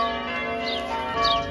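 Church bells rung by bell ringers at practice in Yarkham, heard as a sustained ringing wash of overlapping tones in the evening, fairly loud and steady.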